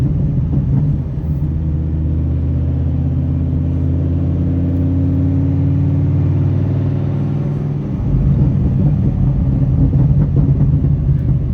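A Dodge Ram SRT-10 pickup with its Viper V10 engine and an open exhaust cutout idles with a loud, deep, steady rumble, swelling slightly mid-clip before settling back to a heavy burble, close and alone.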